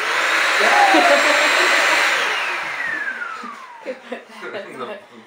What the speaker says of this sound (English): This is the Bissell Symphony, isn't it?